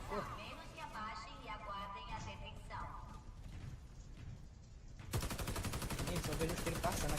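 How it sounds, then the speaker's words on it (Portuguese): Video game gunfire starts as muffled shots under background voices and game sounds, then bursts into loud, dense, rapid automatic fire for the last two seconds. "Eu vejo os tiros passando aqui devagarzinho."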